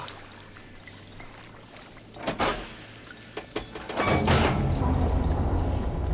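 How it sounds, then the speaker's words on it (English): In the video game Horizon Forbidden West, a mechanical clunk and hiss as the water flow switches give way to a steady rush of pouring water that swells louder and continues to the end. "Sounds like the water's switched."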